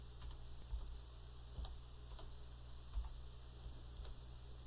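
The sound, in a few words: typing on a computer keyboard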